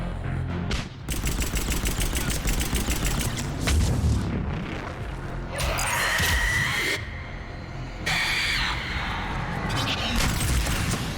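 In Mass Effect 3, booming blasts from a grenade and heavy bursts of gunfire fill the scene, loud and continuous, with sharp crackling impacts layered over a low rumble.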